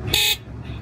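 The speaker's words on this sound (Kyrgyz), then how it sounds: "Сигнал." An electric vehicle's horn sounds once, a short, bright beep lasting a fraction of a second, followed by quiet background.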